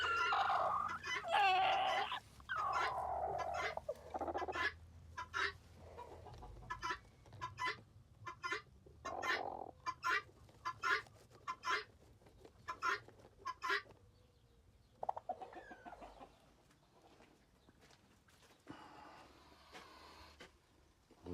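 Chickens clucking in a run of quick, evenly spaced calls after a louder squawking opening, close by, tapering into quieter sporadic clucks.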